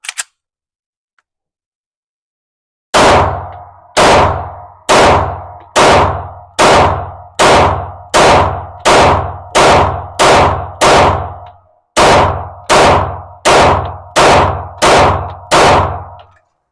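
A Beretta APX pistol fires Remington rounds at an outdoor range: after a short silence comes a long string of loud, sharp, close shots at a steady pace, with one brief pause partway through before the firing resumes.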